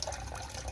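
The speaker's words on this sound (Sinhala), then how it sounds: "ඒකෙන් වතුර පම්ප් කරනවා මෙන්න මේ කැනිස්ටර් ෆිල්ඩ් එකට" An aquarium power head pump rated around 1000 litres pushes water into a homemade canister filter on a styrofoam tank, giving a soft, continuous gurgling flow without talk.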